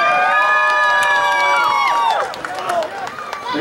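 Crowd at a Sacramento Wildcats game cheers and applauds the cheerleaders, a loud sustained roar with shouts and whistles that eases off slightly toward the end.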